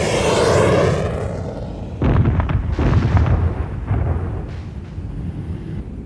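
A fighter bomber drops napalm just yards from its own ground troops, giving a loud, roaring explosion that rumbles and fades, followed by a series of sharper blasts and bursts of gunfire-like crackle.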